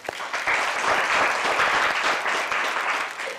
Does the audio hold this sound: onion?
no